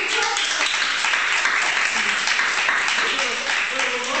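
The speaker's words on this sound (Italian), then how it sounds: "al quale io farei un applauso a questo punto" A meeting audience applauds Stefano with a steady, even wash of clapping that holds at a constant level for several seconds, with faint voices underneath.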